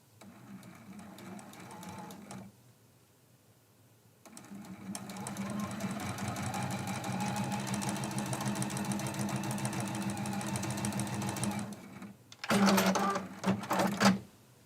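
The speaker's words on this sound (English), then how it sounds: "And we're sewing directly right on that line." Sewing machine stitching along a marked line on a quilt-as-you-go block at stitch length 2.0, a steady close mechanical whir running about eight seconds, with shorter bursts before and after and pauses between.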